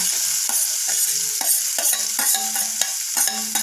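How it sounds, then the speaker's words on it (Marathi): Ginger garlic paste, green chillies and chopped onion fry in hot oil, giving a steady close sizzle broken by regular scraping stirs of a spoon against the pan, with no talking. "लालसर होईपर्यंत आपण व्यवस्थित फ्राय करून घेऊयात"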